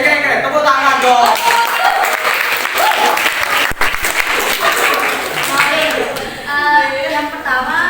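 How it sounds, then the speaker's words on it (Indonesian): A classroom full of students bursts into steady applause that carries on for several seconds, with voices chattering and calling out through the clapping. "Keren, tepuk tangan dong"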